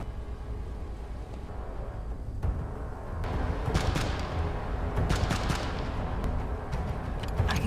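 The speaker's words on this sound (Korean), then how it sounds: "멀리서 들린 총소리에 가까이 다가가 보는 두 사람." Scattered gunshots crack at a distance in an outdoor zombie-survival setting, irregular bursts and single reports rising over a steady ambient rumble, with no talking.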